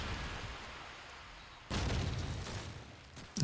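Grenade exploding in a Call of Duty 2 competitive match: faint ambient game noise, then a sudden mid-distance blast with rumbling decay, followed by a louder thump at the very end.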